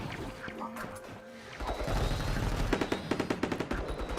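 Turrets firing bursts of bullets in RimWorld, starting faint beneath a commentator's voice, then growing into loud, rapid, rhythmic machine-gun volleys.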